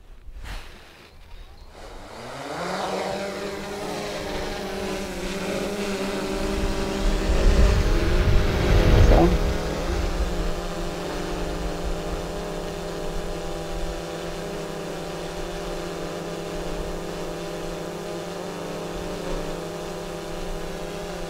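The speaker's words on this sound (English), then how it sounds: "Need to turn on the drone." A DJI Mavic Air 2 drone spins up its propellers and rises into a loud, buzzing whine that peaks briefly, then settles into a steady, tonal hum as it hovers and flies.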